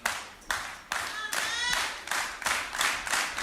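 A wrestling crowd at the Ocean View Pavilion claps in steady rhythmic bursts, close and fairly loud, with a commentator talking over the applause.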